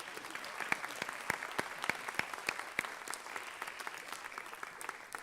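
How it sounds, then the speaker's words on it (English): Audience applause at a valedictory ceremony, a steady patter of many hands clapping in a hall, moderately distant and continuous for several seconds with no voices over it. "Please greet him with a round of applause"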